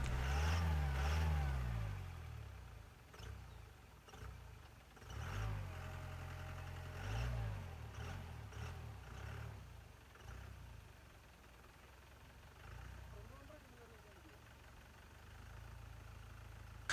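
A Mahindra jeep engine labours off-road in deep mud at Adimali, Idukki, rising and falling in rough, muffled revs that fade to a low rumble.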